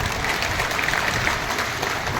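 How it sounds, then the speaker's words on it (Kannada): Audience applause at a crowd gathering where a swami is giving a speech, a dense steady wash of clapping from many hands, fairly loud and even throughout, with no voices over it. "ಹಾಗಾಗಿ ಅವರಿಗೆ ಒಂದು ಸ್ವಲ್ಪ ಜೋರಾದ ಚಪ್ಪಾಳೆ ಅವರಿಗೆ"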